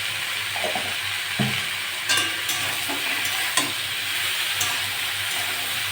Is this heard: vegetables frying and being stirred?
yes